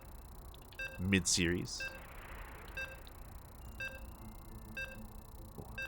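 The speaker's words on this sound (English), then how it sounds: "And you can hear their beeps." StarCraft II sounds a short series of evenly spaced electronic beeps before loading into a game, faint and regular, with a brief burst of louder tones early on and a commentator speaking.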